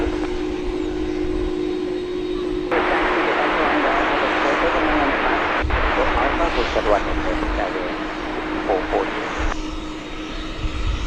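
An American Airlines jet takes off from runway 1 left at DFW, a heavy engine roar that swells sharply and stays loud for several seconds before easing back, with voices and a steady hum underneath.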